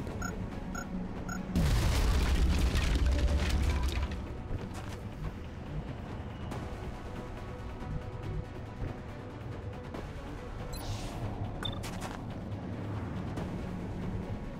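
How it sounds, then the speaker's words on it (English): An alien grenade blows up in the video game XCOM Long War, a deep booming blast lasting a couple of seconds over a low ambient game background. "toss an alien grenade right in here"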